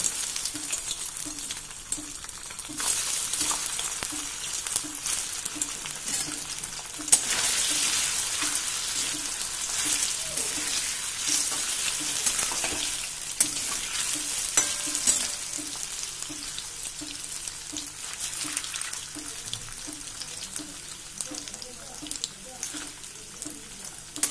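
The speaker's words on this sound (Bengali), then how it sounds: "এবার ওই তেলের মধ্যে আমি পনির ভেজে তুলে নেব।" Paneer pieces sizzle in hot oil throughout, a continuous crackling hiss with occasional stirring clatter and a faint rhythmic ticking beneath.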